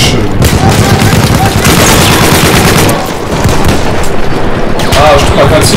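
Loud gunfire and booms crowd a video game war battle, with rapid machine-gun bursts and heavy impacts running almost nonstop, briefly easing mid-way before resuming, with a voice talking over parts of it.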